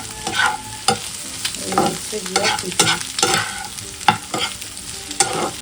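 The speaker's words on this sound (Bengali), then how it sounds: "এখানে ডিম পেঁয়াজ আলু ভাজা হচ্ছে" Egg, onion and potato fry in a pan while a utensil stirs and scrapes them in irregular strokes over a soft sizzle, and a voice speaks briefly.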